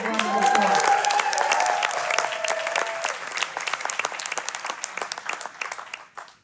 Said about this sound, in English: Let's give them a real good round of applause.